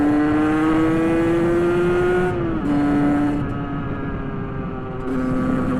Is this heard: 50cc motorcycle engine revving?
yes